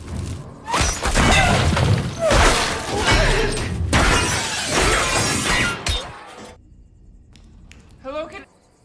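A shop lamp shatters after being struck by a thrown alkaline battery in a dark store: a loud, dense crash with sustained breaking and clattering that cuts off abruptly, followed by quieter room tone and a brief clink.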